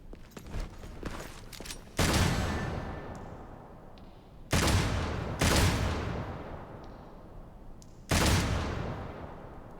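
Gunfire from the video game Devil May Cry 5: after a few quick sharp cracks, three loud booming shots land a couple of seconds apart, each one tailing off into a long fading reverberation, with no talking over them.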